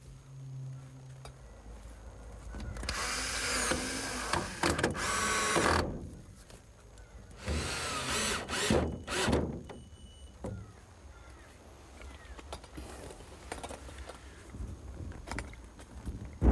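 Power drill driving screws into a greenhouse sill, two clusters of whirring bursts that rise and stop, with quieter handling noise between and after.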